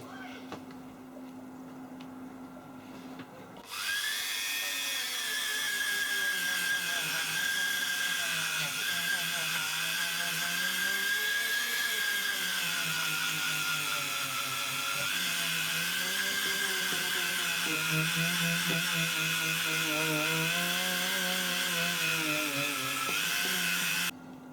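A power tool polishing a knife cast from metal scrapped out of a washing machine, starting abruptly after a quiet moment and then whining steadily and loudly, its pitch wavering as pressure changes.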